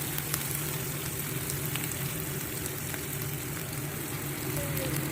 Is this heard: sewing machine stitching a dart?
no